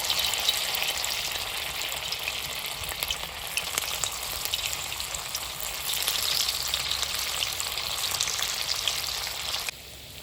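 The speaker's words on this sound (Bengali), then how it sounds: "তেল গরম হয়ে গেছে, ওই বলগুলো ভেজে নিচ্ছি।" Potato fritter balls deep-frying in hot oil, a continuous dense bubbling sizzle heard up close at an even level for about ten seconds, dropping slightly at the very end.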